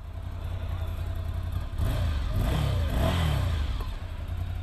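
Ducati Monster 797 motorcycle with stock exhaust, revving in two or three muffled, rising bursts over a steady low idle, close by, with background voices.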